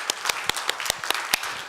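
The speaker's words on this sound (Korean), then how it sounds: "서로 응원하겠습니다. 박수." Brief rhythmic clapping during a church sermon, a few evenly spaced claps over steady background crowd noise, close and moderately loud.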